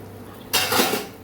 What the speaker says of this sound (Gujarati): ચોખા ઉમેર્યા પછી એક જ વાર હળવે હાથે આપણે એને આવી રીતે હલાવી લેવાના છે